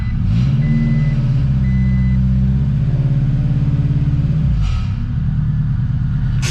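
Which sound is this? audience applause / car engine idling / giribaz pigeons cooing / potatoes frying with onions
car engine idling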